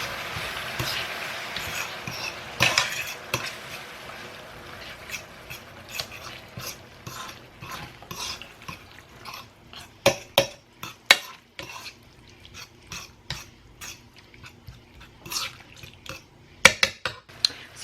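Ground beef simmers in a pan on the stove: a soft, quiet sizzle under repeated clicks and scrapes of a utensil stirring against the pan, with the clatter growing sharper toward the end.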